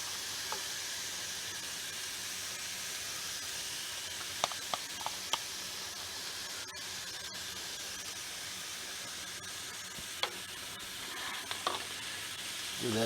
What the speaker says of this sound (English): And we'll scoop in our peppers.